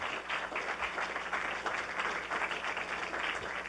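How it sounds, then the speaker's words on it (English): Audience at a political campaign town hall in Hudson County, New Hampshire applauds for a speaker, producing a dense, steady crackle of many hands clapping throughout, with no talk over it. "Can we give Alejandro a round of applause, please?"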